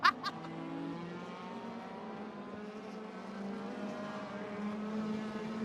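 DTM race cars in the RaceRoom racing game, engines droning steadily at a distance with a soft rising whine as cars pass, faint and low under quiet commentary.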